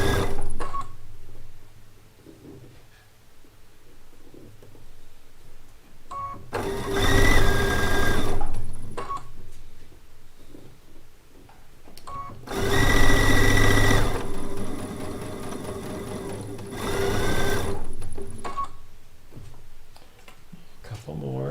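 Domestic sewing machine piecing quilt blocks, running in two bursts of several seconds each with quieter gaps between, near and loud, with faint talk in the pauses.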